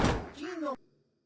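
A door opening in Star Wars: Knights of the Old Republic, a short mechanical whoosh with a sliding electronic tone that cuts off abruptly after under a second, close and clear, with no one speaking.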